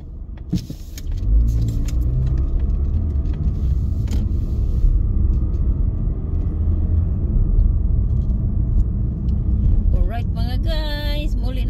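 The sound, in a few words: busy road traffic heard from inside a car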